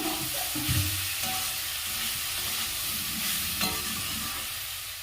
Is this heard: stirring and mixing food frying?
yes